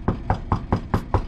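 Six firm knocks on a door, evenly spaced in a steady rhythm, close and fairly loud with nothing else heard around them.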